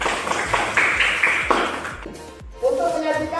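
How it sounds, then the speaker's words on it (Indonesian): Students in a classroom clap together in a quick, rhythmic burst of applause, while a teacher's voice speaks over and after it. "Ya, kasih tepuk tangan."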